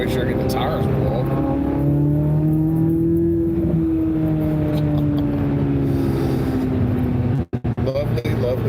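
A 670-horsepower car engine drones loudly and steadily close by, its pitch climbing and then easing as the driver accelerates to warm the tires. A voice speaks over it, and near the end there is a brief sharp dropout.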